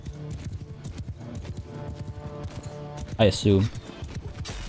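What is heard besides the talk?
horse hooves clip-clopping in the video game Mount & Blade II: Bannerlord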